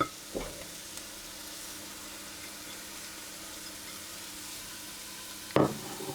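Spices and salt cook in a hot pan for harira soup, giving a faint, steady low sizzle throughout, with a sharp clatter near the start and another near the end.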